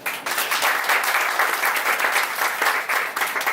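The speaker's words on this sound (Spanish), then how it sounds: "la licenciada Demetria Plasencio, para la cual pido un gran aplauso" An audience at a psychology talk on a campus breaks into applause, a dense, steady wash of clapping that carries on throughout, with no voices over it.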